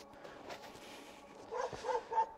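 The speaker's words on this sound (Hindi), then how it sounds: "ये मुसलसल कुत्ते भौंक रहे हैं।" Dogs bark in the distance outdoors on a snowy night, a few muffled barks and yips clustering toward the end over low background noise.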